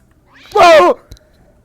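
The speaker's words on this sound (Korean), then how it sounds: "어 고양이다. 응, 새끼 고양이네." A kitten in the horror game To The Grave gives a single clear, rising-falling meow, close and alone against near silence.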